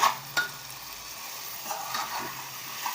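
Pav bhaji being stirred in a pan with red chilli powder and homemade masala, a spoon scraping and mixing the thick mixture over a soft steady sizzle, with occasional sharper clinks against the pan.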